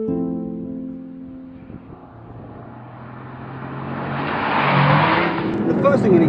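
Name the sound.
Porsche sports car driving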